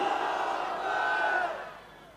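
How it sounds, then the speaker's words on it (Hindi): A rally crowd in a Maharashtra BMC election gathering roars the Takbir slogan back in unison, a loud sustained massed shout that swells and then fades away. "आइए हम अपनी बहन का इस्तकबाल नारे तकबीर से करते गए। नारे तकबीर।"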